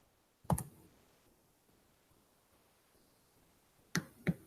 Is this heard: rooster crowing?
no